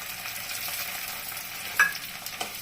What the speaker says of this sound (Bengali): এখন আমি এই যে জিরা বাটা, আদা বাটা, ধনে বাটা, লঙ্কা বাটা সব দিয়ে দিচ্ছি এখানে